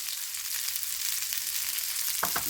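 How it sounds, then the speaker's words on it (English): Chopped garlic sizzling with dry spices in a pan, an even close crackling hiss with a couple of brief utensil knocks near the end, no talk. "roast the dry spices and then use them as seasoning. Yes, now I also added the chopped garlic there"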